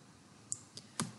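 A few sharp, faint mouse clicks at a computer while a site is being added in a WordPress setup screen: two light taps, then a slightly firmer click, with a quiet room hum underneath.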